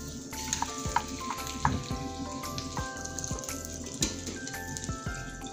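Three kinds of cheese are stirred in a pan, with a spoon scraping and knocking in a regular rhythm over a soft sizzle and background music.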